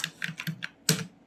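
Fingers type on a computer keyboard, a quick run of crisp, close key clicks with one firmer tap near the end, fairly quiet and alone.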